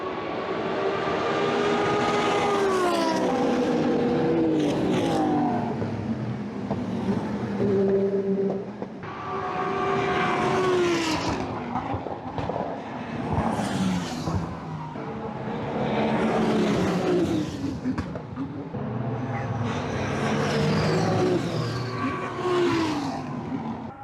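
GT2 race cars roar past one after another at the start of a GT World Challenge 2025 race. Engine notes rise and fall in several loud, overlapping passes with barely any pause between them.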